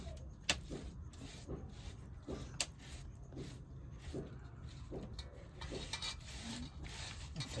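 Hands rub and press dough while making patvad, a traditional tribal home dish, giving repeated soft rasping strokes at a steady rhythm with occasional light knocks, close and fairly quiet.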